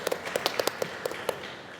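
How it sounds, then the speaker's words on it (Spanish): Sparse, scattered hand claps from a small audience at a COP30 session on direct climate finance for Amazonian Indigenous peoples, about ten distinct sharp claps that thin out toward the end. "pido un fuerte voto de aplauso"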